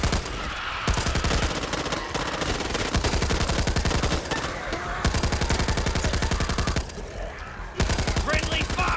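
Sustained automatic gunfire from the Back 4 Blood co-op zombie shooter beta, friendly fire, in long rapid bursts with brief pauses, loud and close throughout.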